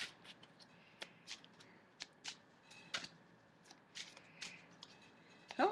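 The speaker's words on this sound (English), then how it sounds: "so we'll shuffle the deck and see what comes out." A deck of playing or divination cards is shuffled by hand in a quiet indoor room, giving soft repeated riffling and flicking bursts at an irregular rhythm, close and faint.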